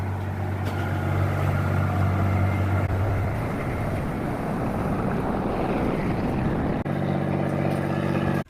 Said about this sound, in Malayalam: ഈ ബോട്ട് തിരിച്ച് നേരെ അഷ്ടമുടിക്ക് പോവാണ്